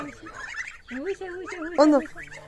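Domestic geese call nearby with a few short, nasal honks and gabbling cackles, one louder squawk near the end.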